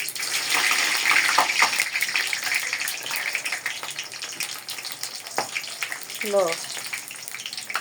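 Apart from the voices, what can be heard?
samosas frying in hot oil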